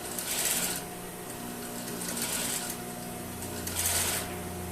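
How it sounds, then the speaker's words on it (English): A sewing machine fitted with a bias folder stitches a seam, a steady mechanical whir with three brief faster bursts, close by and without talk. "and just sew"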